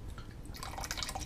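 Rice vinegar is poured for sushi rice seasoning, giving a brief, soft trickle and dripping splash that starts partway through, close and fairly quiet.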